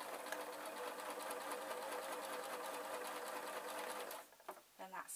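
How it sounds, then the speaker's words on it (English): A sewing machine runs steadily, whirring with a fast even stitching rhythm while sewing black sock fabric into cat ears, then stops; a few quiet clicks and a brief voice follow. "I can then put it under the sewing machine"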